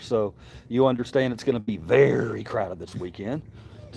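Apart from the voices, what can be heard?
No distinct noise like a dog, phone or traffic.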